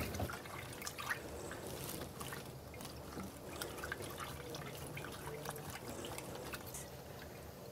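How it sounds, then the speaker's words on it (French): A cleaning brush scrubs wetly inside a piston channel of a non-autoclavable endoscope during manual reprocessing. A continuous close rustling and swishing with faint watery dribbles runs throughout. "J'introduis ma brosse dans un des pistons."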